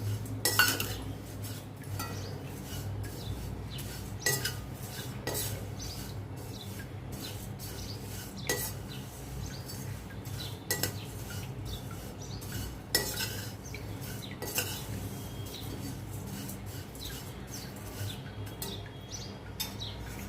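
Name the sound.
dry roasting coriander, cumin and poha in a pan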